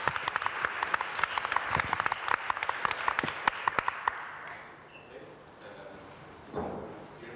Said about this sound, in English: An applause for Felipe,